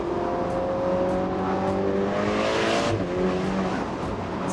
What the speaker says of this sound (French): Rétrogradage, réactivité de la boîte.